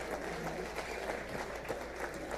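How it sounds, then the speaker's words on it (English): Applause for a speaker at a legislative retreat of parliament members presided over by the Speaker, a steady, fairly faint wash of clapping from a crowd that holds evenly throughout. "Another round of applause for our speaker."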